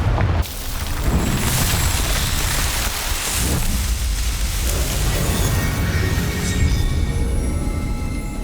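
A Confringo spell explosion in Hogwarts Legacy, a loud, dense roaring blast with crackling debris that keeps rumbling for several seconds, no talk over it.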